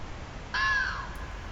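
A fox at night lets out a single hoarse, raspy bark, short and moderately close, over a quiet outdoor background.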